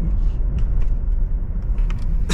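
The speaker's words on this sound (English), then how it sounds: "we're gonna get on the freeway in the thick of 5 o'clock traffic" Steady car traffic rumbles on a Los Angeles freeway in the thick of 5 o'clock rush hour, a continuous low road drone with faint higher clicks and rattles over it, heard from inside or beside the flow.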